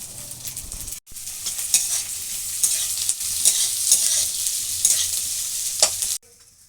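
Chopped capsicum fries in a pan with a bright, steady sizzle as a utensil repeatedly scrapes and stirs it up close; the sound cuts off briefly near the start and again at the end, with no talking.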